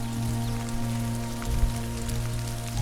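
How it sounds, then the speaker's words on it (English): Steady rain patters on a mountainside before a hike in Europe, a dense even hiss close by and alone, with a low hum running beneath it. "I haven't even made it a centimetre up this mountain and it's already started raining."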